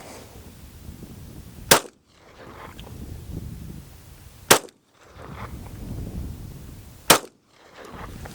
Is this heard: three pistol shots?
yes